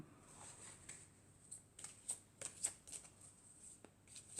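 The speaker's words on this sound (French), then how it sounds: "Alors je prends encore 4 cartes" Oracle cards shuffled and drawn during a reading, with a soft run of papery riffles and flicks in quick irregular bursts, close and fairly quiet with no talk.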